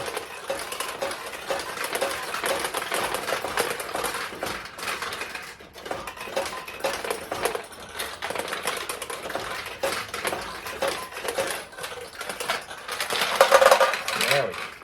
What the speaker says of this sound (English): let these balls come down into the lower tray and just scoop them up right up over the top and drop them back in the machine